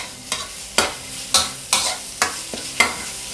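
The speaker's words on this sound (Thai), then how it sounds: "ผมจะไม่ใส่น้ำอะไรลงไปนะครับ จะผัดแบบแห้งๆนะครับ" Minced pork dry stir-fried without any added water for Thai basil stir-fry, with a spatula scraping the pan in a steady rhythm of about six sharp strokes over a soft continuous sizzle, close and moderately loud.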